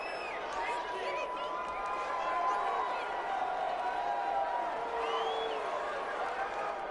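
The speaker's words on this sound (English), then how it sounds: "the crowd getting into it as we come up on a big 3rd down" A stadium crowd at a PS5 American football video game roars steadily, building slightly toward a big third-down play, while a commentator talks over the sustained cheering.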